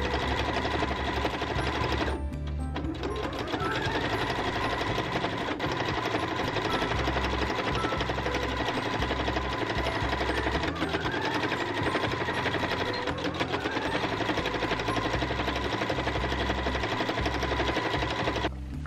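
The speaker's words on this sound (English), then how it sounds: "then you're going to sew the sides and the bottom, keeping that opening unsewn" A sewing machine stitches the side and bottom seams of a fabric bag lining at a 5/8 inch allowance, running loud and steady with a brief pause near the start, then continuous rapid whirring throughout.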